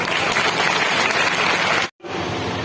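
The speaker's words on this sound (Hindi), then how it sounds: "तो हम चाहते हैं हमें उनका ताली बजाकर स्वागत करें" Loud, dense clapping from a crowd at a protest rally in Lahar, welcoming guests, sustained and even, cutting off abruptly near the end before a quieter room tone.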